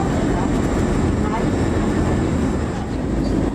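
Cabin of a Swiss Airbus A321 on final approach to Copenhagen Airport, runway 22 left: a loud, steady roar of engines and rushing air throughout, with a voice faintly underneath.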